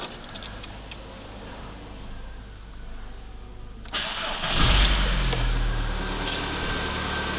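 A 1.6 AZD petrol engine in a Volkswagen Golf IV, just fitted with new Bosch ignition coils, is cranked and fires up halfway through, settling into a steady close idle after a quiet wait.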